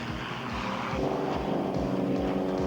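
A propeller aircraft flying aerobatics, climbing steeply and banking into a roll, drones steadily and loudly throughout with a buzzing engine tone and rhythmic low pulsing, with no other sounds.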